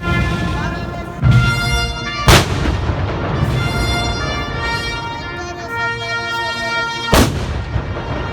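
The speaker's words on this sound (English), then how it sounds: "those are literally artillery shells being blasted in the city." Artillery shells fired during a military march in La Paz, with loud, booming blasts at intervals over a continuous crowd and brass-band din.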